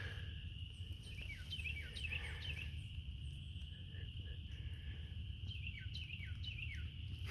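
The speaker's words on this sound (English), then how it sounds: "Here's a little bird singing." A small bird sings outdoors in a few short bursts of quick, high, descending chirps, faint and somewhat distant over a steady low background hiss.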